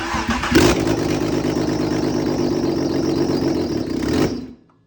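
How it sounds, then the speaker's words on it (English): A swapped engine in a sedan fires up and settles straight into a loud, steady run, holding for about four seconds before cutting off abruptly. "we got the engine running"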